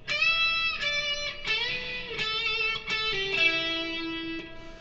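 A distorted electric guitar plays a longer lead phrase from a solo, about eight quick picked notes with a pull-off and a slide, rising then settling on a lower sustained note, loud and alone without talk.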